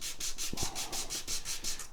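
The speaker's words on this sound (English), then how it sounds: "this is also a lot harder to sand off than a lot of the nuts I've had" Sanding a guitar nut on a Norman B20, a rapid run of short rhythmic rubbing strokes, close and steady, with a couple of faint low knocks partway through.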